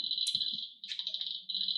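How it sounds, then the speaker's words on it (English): A tiny wetland clicking frog about 2.5 centimetres long gives a rapid, continuous train of sharp clicks. The series is close and steady with one short break partway through. "That's a clicking frog."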